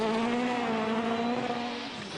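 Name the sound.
rally car driving a stage at Rally Sweden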